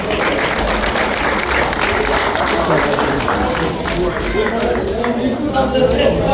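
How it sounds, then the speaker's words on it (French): A crowd claps steadily and loudly throughout at an outdoor goat show prize-giving in Petit-Canal, a dense continuous applause with voices mixed in. "Vous pouvez applaudir."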